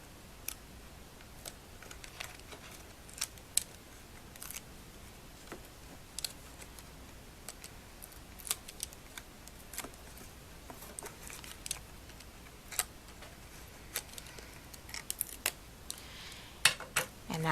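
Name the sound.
peeling backing cover off adhesive tape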